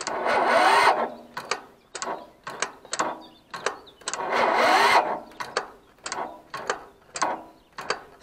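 An Ursus C 325 tractor engine cranking on a starter cable, repeated loud mechanical bursts in an uneven rhythm, with two longer churning attempts between short clanking turns, close by and with no talk.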